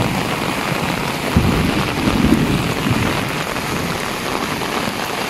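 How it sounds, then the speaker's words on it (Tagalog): Heavy downpour in Masbate, dense steady roaring rain with a low rumble of thunder, loud and continuous throughout with no talking. "Sobrang lakas ng ulan ngayon."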